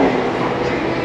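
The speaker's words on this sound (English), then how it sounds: "You would never find a place to sit on this train at this time before COVID." Interior of a Bangkok MRT train in motion, a loud, continuous rumble and hiss of the carriage running on the rails, steady throughout with a faint tonal whine and no talking.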